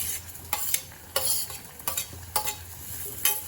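Chopped tomato and asafoetida hitting hot oil in a pan, a steady close sizzle with several bursts of stirring scrapes spaced through it, no voices.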